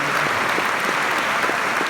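Dense, loud applause for Randall Weddle, a continuous close wash of many hands clapping with no voices over it.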